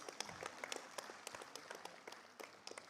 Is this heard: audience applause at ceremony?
yes